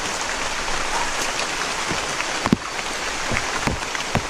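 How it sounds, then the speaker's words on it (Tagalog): Steady rain falls on a surface during a rainy trip toward a house, forming a continuous hiss with a few sharper drips and knocks, loud and close, with no talking. "Ulan kasi guys."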